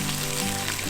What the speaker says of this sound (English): you can just hear that sizzling